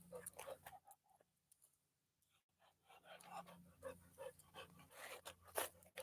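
A dog pants in quick, rhythmic bursts close by, with short pauses and faint rustling between breaths at low volume.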